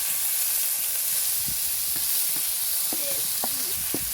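Mustard seeds sizzling in hot oil, a steady broadband hiss throughout with scattered small pops and crackles, close and fairly loud.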